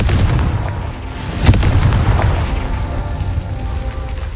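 A fiery Confringo spell bursts in Hogwarts Legacy, a sharp boom landing over a dense, rumbling roar of game effects that continues loudly around it.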